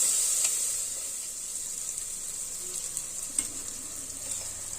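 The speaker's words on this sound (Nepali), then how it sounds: "अब मसलालाई पनि भुट्नुपर्छ हामीले एकैछिन," Ground spices (cumin-coriander powder and turmeric) frying in a pan for moong dal khichdi, a steady close sizzle with occasional scrape of a spoon stirring, continuous and fairly loud.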